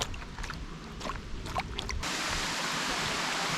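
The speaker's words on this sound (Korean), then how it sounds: "엄청 작은 폭포네요" A small waterfall in a misty valley in Ireland: a few faint scattered sounds give way to a steady, close rush of falling water, with no talking.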